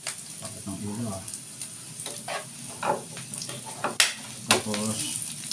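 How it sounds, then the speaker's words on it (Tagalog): Onion caramelizing in a pan for adobo in an outdoor dirty kitchen in Los Baños, a steady close sizzle with occasional stirring scrapes and clinks, a voice briefly talking over it. "So nagkakaramelize lang ako ng onion."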